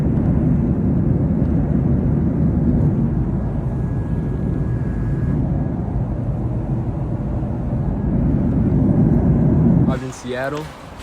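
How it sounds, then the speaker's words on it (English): Steady, loud low roar of a passenger airplane cabin in flight, a dense broadband drone filling most of the stretch before it drops away near the end as a voice begins. "now we're on the airplane."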